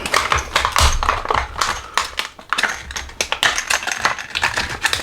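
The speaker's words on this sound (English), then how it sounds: "I tend to open these just with a scalpel and just quickly cut them open like that" A scalpel slices quickly through the cardboard box of a Warhammer 40,000 Shadowseer model kit, giving close, dense runs of scratchy cuts and taps with brief pauses and no talk.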